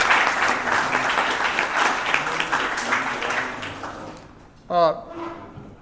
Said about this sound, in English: let's give all those folks a round of applause